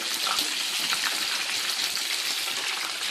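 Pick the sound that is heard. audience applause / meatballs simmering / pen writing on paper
meatballs simmering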